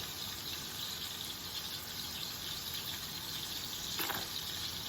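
Regular malt vinegar pours steadily into a bowl, a continuous close liquid gush lasting several seconds with no talking.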